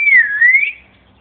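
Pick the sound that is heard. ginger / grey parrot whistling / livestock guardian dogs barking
grey parrot whistling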